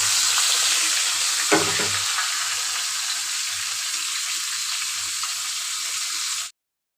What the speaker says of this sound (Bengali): এখন আমি মাছের মাথাগুলি উল্টিয়ে দেবো এক পাশ ভালো করে ভাজা হয়ে গেছে এখন আমি আরেক পাশ ভেজে নেব